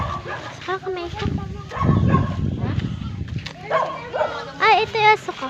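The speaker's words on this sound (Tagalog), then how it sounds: "Ay, ito yung aso ko." A pet dog gives a few short yips and whimpering barks outdoors near a water pump, mixed in with a person talking close by.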